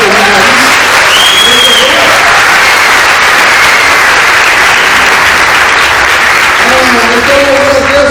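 A church congregation claps steadily and loudly during a communion service, with crowd clapping filling the whole stretch while voices and some singing or talk rise faintly underneath.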